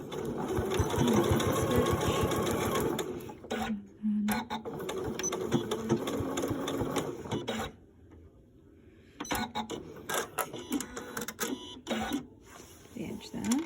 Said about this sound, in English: I'm just going to pop a line of sewing here